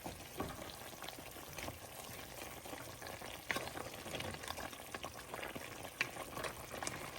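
Simmering rib juices in a pot being stirred for sticky fall-off-the-bone ribs, with a soft bubbling, sizzling bed and faint scraping strokes, plus a couple of brief clinks of the utensil against the pot.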